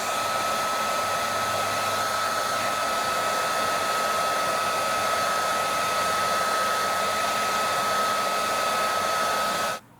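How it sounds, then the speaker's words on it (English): A Makita heat gun blows hot air onto a car trunk cargo mat. It gives a steady, loud, unbroken whooshing hiss with a constant whine running through it, and it cuts off abruptly at the end. No talking. "So we'll use this heat gun from Makita right now, and I will basically start warming up"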